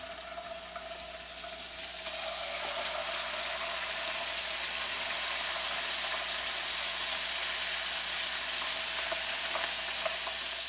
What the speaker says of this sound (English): Then we're going to start frying these chicken livers.